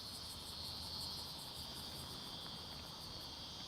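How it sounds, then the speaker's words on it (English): Cicadas on a hot day in Sydney give off a constant, high, shimmering drone with a faint pulsing texture, steady and even throughout over a low background hiss, fairly distant, with no voices. "they are cicadas"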